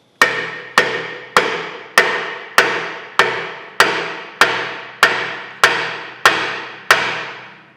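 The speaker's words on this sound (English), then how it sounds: "I'm using a lead hammer here." A lead hammer knocking out a steel block on a steam stoker engine cross head slide, eleven loud, close, sharp blows struck at an even pace, each ringing briefly before the next.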